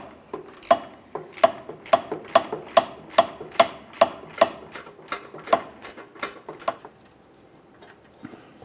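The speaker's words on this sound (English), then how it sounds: "I'm going to use a flexible head ratchet and my 15mm socket up along the top" A flexible head ratchet turning a 15mm socket to remove transmission mount nuts on a 2000-2005 Buick LeSabre, a steady series of about a dozen loud, close metallic clicks that stop partway through, leaving quiet.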